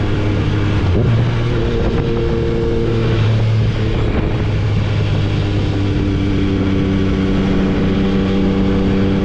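Yamaha Tracer 900 motorcycle fitted with a full exhaust line, its engine note loud and close throughout, steady harmonic drone shifting pitch as it rides along.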